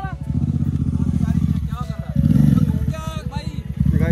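A superbike motorcycle engine revs and roars loudly and steadily up close, with throttle surges partway through, while people talk and shout over it.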